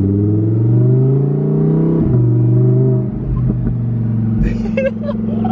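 A Lamborghini Huracán Performante V10 engine runs loud and close with a deep, layered drone that shifts pitch a few times as it revs, while voices talk over it.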